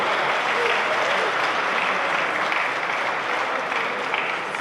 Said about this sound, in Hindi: भरपूर तालियां वल्ला जमाल अरसीली के लिए